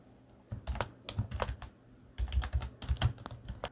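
Keyboard typing on a computer while composing a post, two bursts of quick irregular keystrokes separated by a short pause, close and fairly quiet with no talking.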